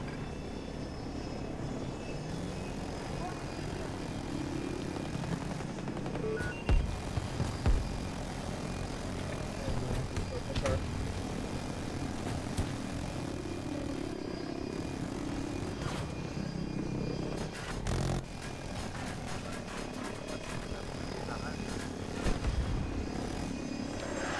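A jet aircraft roars past overhead in the video game Battlefield 2042, a steady dense engine rumble that rises and falls across the battlefield, mixed with sharp bursts of gunfire and impacts.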